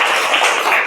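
Applause from a university teaching-session audience, a dense burst of many hands clapping, loud and close, lasting under a second.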